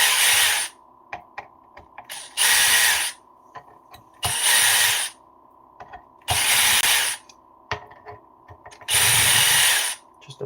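Small screws go into an Arrma RC car carbon chassis with a power driver, which whirs in five separate close bursts of about a second each, with light clicks and handling noises in the gaps.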